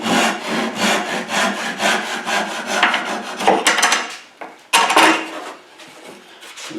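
A hand saw cuts wood at a 45-degree angle in a mitered bench hook, with fast, even rasping push strokes close up that slow and break off near the end of the cut.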